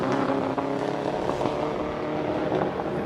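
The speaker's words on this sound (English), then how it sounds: "he sounds like he's missing slightly on one. I don't think it's a full-on misfire." A hillclimb race car engine that is slightly misfiring drones steadily at a moderate distance, its note slightly uneven and rough throughout, with no voices.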